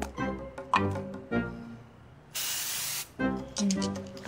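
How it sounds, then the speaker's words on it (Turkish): Numbing spray bursts in a single steady hiss lasting under a second, close and loud, standing alone between stretches of speech before and after. "Şurada uyuşturucu sprey var"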